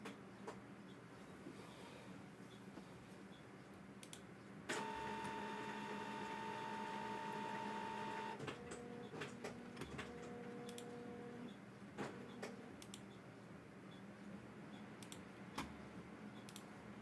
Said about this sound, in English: This printer be pissing me off so bad.